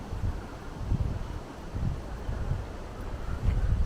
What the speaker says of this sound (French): le vent arrive d'un coup